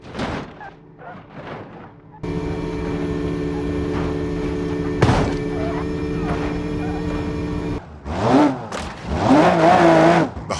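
A hypercar in a car-crash game revs as it strains to climb a ramp. A sudden, steady, droning engine whine with a tonal hum holds for about five seconds, then gives way to a jumble of louder, shifting noises.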